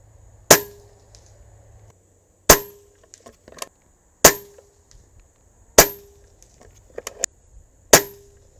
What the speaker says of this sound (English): let's just shoot pellets. Just to see what will happen. Five shots, 16 grain